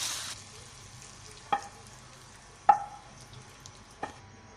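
Finger chips for chilli potatoes tossed in a pan over a low background sizzle, with three distinct metallic clinks of utensil on pan spaced about a second apart, fairly quiet and without speech.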